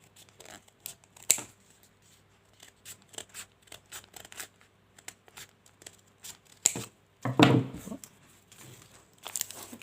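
Scissors snip through skirt fabric in a series of short, crisp cuts at an uneven pace, with a louder rustle of handled cloth partway through, close and fairly quiet with no talking.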